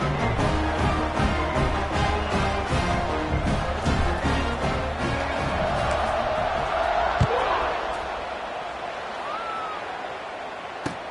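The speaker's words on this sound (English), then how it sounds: "this crowd is buzzing after that last score" A stadium crowd buzzes in the College Football 26 video game, a steady, dense roar that eases slightly toward the end, running under continuous commentary.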